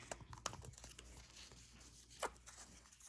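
Paper bag flaps on a hot cocoa gift bag are folded back by hand, giving faint, soft crinkling with a couple of sharper paper crackles in a quiet room.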